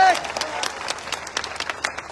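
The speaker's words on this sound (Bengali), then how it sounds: "ওনার জন্য একটা হাততালি আমি আশা করি" Applause breaks out for a guest at a school-related gathering, a dense patter of many hands clapping together at moderate volume for a couple of seconds, with voices mixed in.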